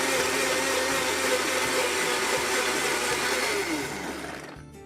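A blender whirs loudly and steadily as it mixes Caesar dressing with lemon juice, salt and pepper, then winds down and cuts off near the end, with no talking.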